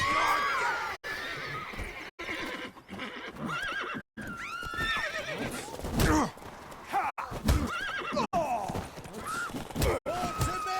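Horse neighs and whinnies in The Witcher 3, loud and close, mixed with hoofbeats and combat clatter, with game voices speaking around it.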